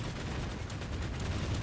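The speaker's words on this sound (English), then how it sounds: "Comes out of an auto cannon and a heavy stubber." An assault tank in the Dawn of War Ultimate Apocalypse game fires its autocannon and heavy stubber. The result is a dense, continuous roar of rapid gunfire that fills the whole moment without a break.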